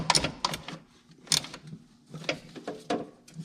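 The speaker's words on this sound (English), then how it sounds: "Use a 17mm open ring box wrench to tighten it up." A 17mm open ring box wrench tightens the alternator connection on a BMW E53 X5 3.0i. Close, quick metallic clicking bursts repeat in short, uneven strokes with brief pauses between them.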